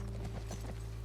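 Horse hooves clip-clopping in the video game The Last of Us Part 1, a steady run of soft, evenly spaced hoof falls close by over a constant low hum, with no talking.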